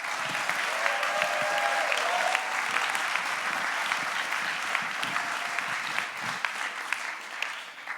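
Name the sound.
audience applause for the speakers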